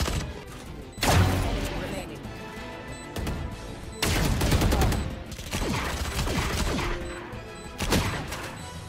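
Rapid bursts of gunfire in a Valorant match, loud and close, with volleys at the start, middle and end, and players talking over the shooting.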